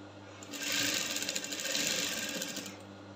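A sewing machine stitches a seam on a cowl abaya, a quiet rapid mechanical whirring and clatter that starts after a pause, runs steadily for a couple of seconds, then stops.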